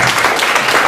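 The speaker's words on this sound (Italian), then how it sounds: "Bene, un applauso" Audience applause at a cultural association event, a brief burst of dense, loud clapping from a crowd.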